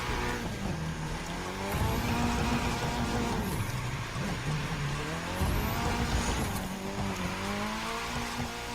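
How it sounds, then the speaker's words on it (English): In The Crew 2, a Mitsubishi drifts through New York City near Central Park, its engine droning steadily with wavering pitch while tires squeal and whine through repeated slides. "Awesome drifting technique."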